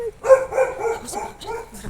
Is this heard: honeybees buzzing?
no